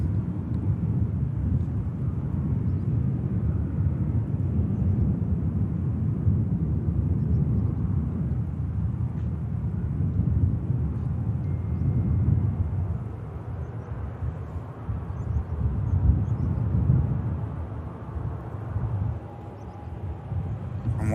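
An EasyJet airliner lined up on the runway at Manchester Airport gives a steady low rumble, distant and continuous, swelling slightly at times, with wind noise on the microphone.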